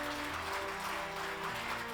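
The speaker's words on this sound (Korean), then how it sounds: "여러분 큰 박수 부탁드립니다." Audience applause at the 2021 Samsung Ho-Am Prize award ceremony, a steady wash of clapping from a seated crowd that stays dense and even throughout.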